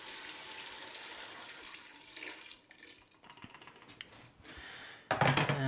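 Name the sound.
water being added to vegetable soup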